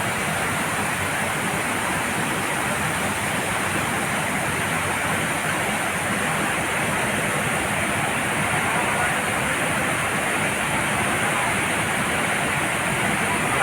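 A steady, loud roar of falling water rushes continuously without a break, with no voices over it.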